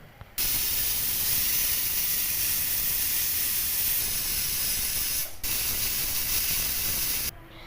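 A pressure cooker cooking sprouted mung bean, moth bean and chickpea curry lets off a loud, steady steam hiss that runs for several seconds, breaks briefly, then resumes before cutting off.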